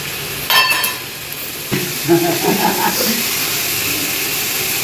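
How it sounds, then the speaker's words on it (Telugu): Food fries in a pan as mint leaves are tossed in, giving a soft steady sizzle with a clatter of stirring. A voice speaks briefly over the hiss. "వేసి బాగా వేగించి పుదీనా కూడా వేసుకోవాలి"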